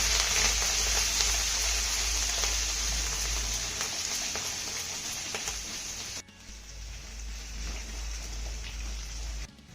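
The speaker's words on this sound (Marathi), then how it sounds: "आता ही फोडणी आपल्याला चांगली परतून घ्यायची आहे" Cumin, ginger, garlic and curry leaves crackle and sizzle steadily in hot oil for a tempering, a loud continuous frying hiss that drops off sharply near the end, then resumes more quietly.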